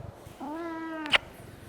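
A house cat lets out a single drawn-out meow, close and clear, ending in a brief sharp clack, with quiet room tone around it.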